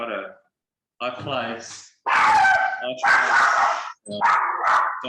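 Dogs bark excitedly indoors as someone walks in the door, several loud, close bursts of barking and yipping separated by short pauses.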